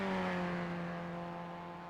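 A race car engine in the sim racing game iRacing holds a steady, tonal drone at cooldown pace, with strong harmonic bands that stay fairly even over two seconds and fade slightly toward the end.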